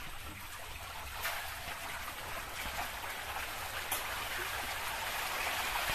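River water flows through the channel of a fish cage pond for carp farming, a constant broadband rushing and splashing that holds steady and fairly close, with no voices.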